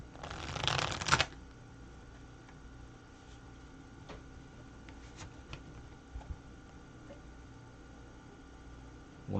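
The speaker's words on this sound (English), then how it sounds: "Another shuffle." Tarot cards are shuffled in one quick riffle near the start, a close crisp flutter, followed by quiet room tone with a few faint taps and clicks.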